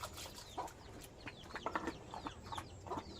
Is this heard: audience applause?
no